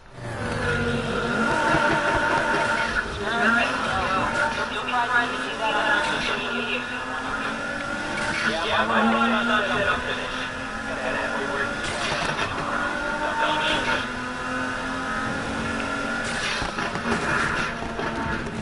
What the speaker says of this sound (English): I love the sound of that turbo.